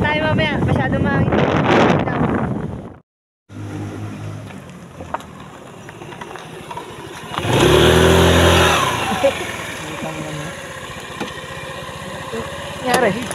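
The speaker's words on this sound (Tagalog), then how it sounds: "Masyado mahangin." Gusty wind buffets an outdoor microphone in heavy low rumbling bursts, briefly cutting out and then surging louder, with people talking over it and an engine-like drone underneath.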